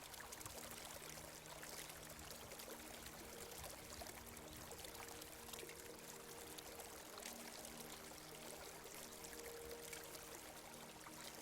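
A soft, continuous trickle of flowing water, quiet and steady like a small stream, with no other sounds.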